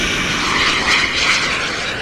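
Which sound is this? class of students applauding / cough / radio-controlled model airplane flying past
radio-controlled model airplane flying past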